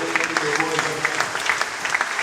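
A church congregation at a Sunday service claps together, a dense, even patter of hands throughout with a scattering of sharper claps standing out.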